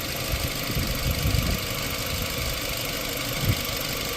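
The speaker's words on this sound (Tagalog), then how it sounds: "So the radiator fan will cool down the engine coolant." Radiator fan running on a Nissan X-Trail T30 with the engine idling, a steady mechanical whir and hum with low engine rumble and a couple of faint thumps.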